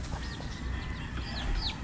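Chickens cluck and chirp close by after their feed is scattered, several short rising and falling calls over a steady farmyard rumble.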